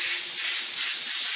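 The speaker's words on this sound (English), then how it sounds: "And I'm going to spray in here and just kind of get a little bit closer to what we want the fire to" Spray paint hisses steadily from a can while a fire effect is built up in a painting, a close, continuous airy spray with slight swells in loudness and no talk.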